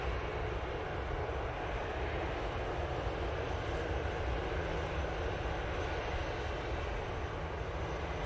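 An inbound Easyjet Airbus A320 arriving from Nice at Manchester Airport, its steady broadband engine roar held at an even level throughout, moderately distant with no voices.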